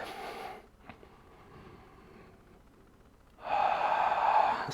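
A deep inhalation is taken during a kneeling yoga backbend, knees together, reaching back over the heels. Quiet air noise leads into one loud, close, drawn-in breath lasting about a second.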